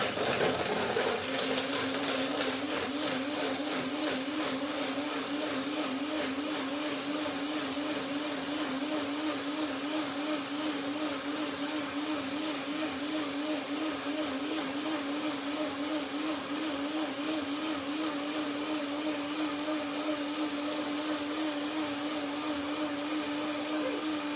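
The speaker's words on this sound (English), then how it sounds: "Blender sound gets even a little bit" A blender making cashew milk whirs continuously at a steady, loud pitch with a slight wavering hum throughout.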